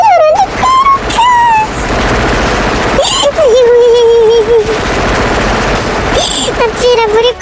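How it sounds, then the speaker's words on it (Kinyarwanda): Heavy gunfire in a film bursts out in rapid machine-gun rattles and volleys, loud and close, mixed with shouting voices and a dramatic score that rises over the shooting. "amasasu ni menshi cyane"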